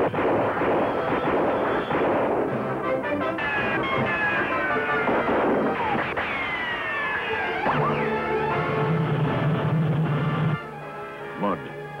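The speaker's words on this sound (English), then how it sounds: "Rifle fire from Dragon." Rifle fire in an animated cartoon battle: a dense run of sharp cracks and bursts mixed with whistling, swooping effects and a music score, with a voice heard under the din before it thins out near the end.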